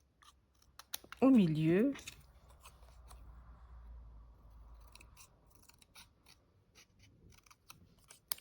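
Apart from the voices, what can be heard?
scissors cutting paper for a pop-up cat card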